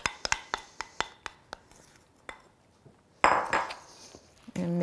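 Meatloaf ingredients and eggs being mixed in a bowl, a quick series of sharp clinks and taps from a utensil against the bowl, then softer scraping and a burst of rustling stirring near the end.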